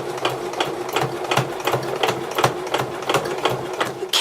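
A sewing machine stitches around the top edge of a quilted tablet cover sleeve with a rapid, even mechanical chatter of needle strokes, close and steady for about four seconds without speech.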